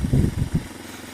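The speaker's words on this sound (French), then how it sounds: "je vais pas trop vite parce que le moteur est froid, je viens tout juste de le partir" A Yamaha Raptor 250 ATV engine running cold just after starting, its low throbbing exhaust pulsing in a few uneven surges at close range before easing to a steadier idle.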